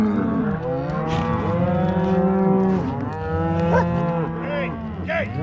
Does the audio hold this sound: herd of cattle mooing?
yes